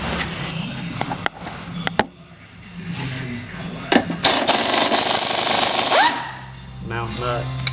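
An impact gun zips out transmission bolts on a Chevy Blazer 4L60E: short sharp rattling bursts, then a longer loud hammering run midway, amid shop clatter and someone talking.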